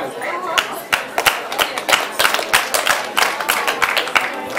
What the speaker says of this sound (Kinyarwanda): Nagira ngo twongere amashyi dushimira umubyeyi.